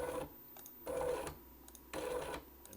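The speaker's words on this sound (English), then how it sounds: "if we run this function, the motor will turn" A stepper motor driven by an Ethernet JSON controller turns one full revolution at full step, giving repeated mechanical whirring bursts with short pauses between them. The sound is close and steady, with no talk.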